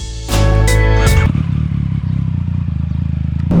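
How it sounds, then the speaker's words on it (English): A Yamaha MT-09 motorcycle, modified lighter and faster, roars loudly nearby with a sharp revving burst, then settles into a rough, pulsing idle. "now it could finally go for its maiden ride as a better, lighter and faster MT-09"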